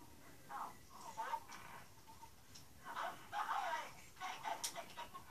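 Soft dog whimpers and yips from a survival video game, repeated in short bursts at moderate level, with faint background noise between them.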